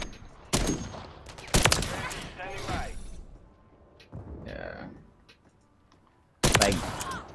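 Suppressed gunfire in a first-person shooter match, sharp bursts of muffled shots at the start, middle and end, with a player talking between them.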